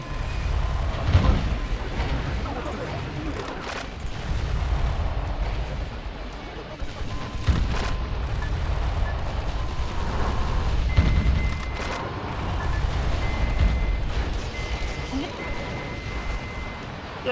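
Weapon fire in the mech game Metal Wolf Chaos XD, repeated booming blasts and crashes striking a building, with a voice talking over the noisy barrage.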